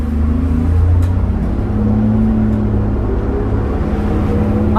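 A 2001 New Flyer D40LF diesel city bus on a Calgary Transit route roars loudly up close, its deep engine drone holding steady and rising in pitch through a sustained pull.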